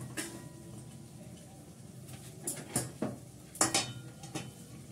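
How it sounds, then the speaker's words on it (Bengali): Garam masala is stirred in a wok, with faint, sparse metallic scrapes and taps from the spoon against the pan over a quiet background. "জাস্ট গরম মশলাটা একটু নেড়ে দিই।"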